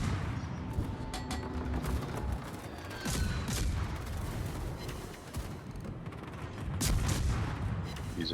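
Naval guns fire in a warship video game, heavy booms and gunfire bursts recurring over a constant rumbling battle backdrop, moderately loud throughout with no talk.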